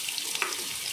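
Three finely chopped onions fry in a pan, a steady close hiss of sizzling oil with faint crackles, no voices over it.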